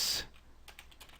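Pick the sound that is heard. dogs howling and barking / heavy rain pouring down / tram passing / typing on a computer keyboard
typing on a computer keyboard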